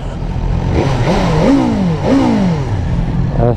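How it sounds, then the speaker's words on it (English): A BMW S1000R motorcycle engine revs up sharply several times, pitch rising and falling in quick bursts over a rumbling idle, loud and close. "let's get some revs going"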